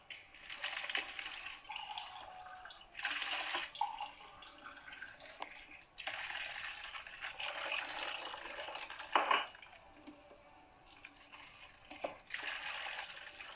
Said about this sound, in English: So I'll put my tomato paste here and 1 cup of water.